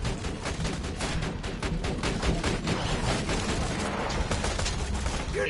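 Sustained turret gunfire in Borderlands 2: dense, rapid automatic bursts hammering continuously with no pause, loud and close throughout.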